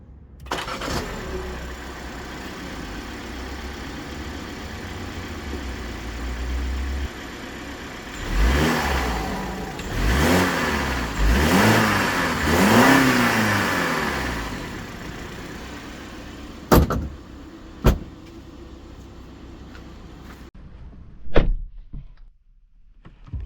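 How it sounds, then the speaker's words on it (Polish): BMW 330e xDrive Touring plug-in hybrid's petrol engine in sport mode, idling and then blipped through several rising and falling revs, followed by a few sharp thunks and quieter pauses, heard close with no talk. "Tak ten silnik brzmi."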